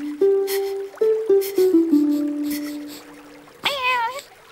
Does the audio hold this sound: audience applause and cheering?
no